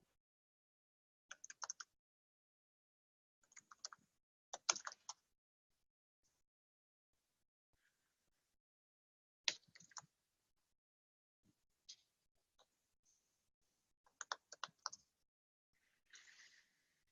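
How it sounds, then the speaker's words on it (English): Typing on a computer keyboard comes in short scattered clusters of light clicks with long silent gaps between them, faint and alone. "Let me type this out."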